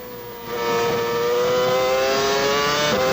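McLaren Mercedes Formula 1 engine at the 2007 Italian Grand Prix, screaming loud and close as the revs climb in a rising, sustained howl, with a brief dip near the end as a gear change cuts in.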